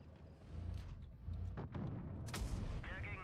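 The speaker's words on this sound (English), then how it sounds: "Let's see if the Yak Panzer is going to shoot his cannon." A Jagdpanzer tank cannon fires in World of Tanks Blitz, giving heavy booming shots over a rumbling engine bed, with several blasts and a sharp crack near the end.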